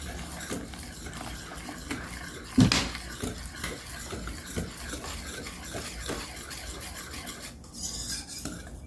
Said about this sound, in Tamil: அது கொஞ்சம் கொஞ்சமாக ஊற்றி எப்படி கலக்கிறதுன்றத காமிக்கிறேன்